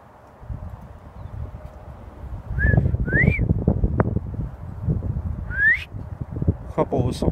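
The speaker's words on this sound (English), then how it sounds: "Couple whistle calls." A few short rising whistles sound out amid rustling and crunching movement nearby in the woods, with faint knocks in the background.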